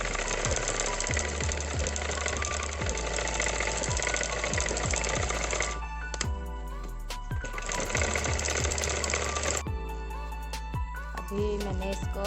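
An electric sewing machine stitches old denim jeans fabric with a loud, close, fast mechanical rattle in two long runs, separated by a short pause and followed by a few shorter bursts.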